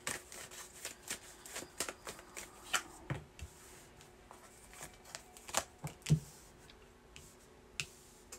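Tarot cards being shuffled by hand, a quiet series of sharp riffling snaps and soft card slaps in an irregular rhythm, close and faint, with no talking.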